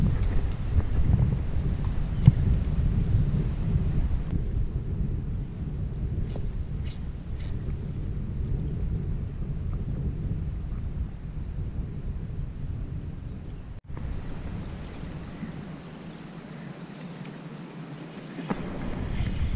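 Wind gusting across a long jetty by the sea at Busselton, a steady low rumbling buffet on the microphone that eases and returns, with faint scattered clicks and no talk.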